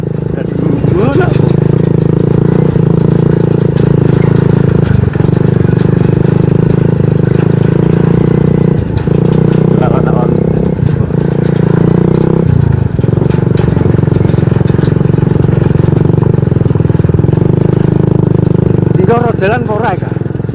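A motorcycle engine runs steadily at idle, a loud continuous low rumble that holds throughout, with people talking over it intermittently.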